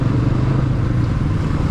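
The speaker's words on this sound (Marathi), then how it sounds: "आपली बाईक चालायला थोडा स्ट्रगल करते" Motorcycle ridden over a potholed, rough road, its engine laboring with a steady low drone and rattling clatter throughout, loud and close with no voices.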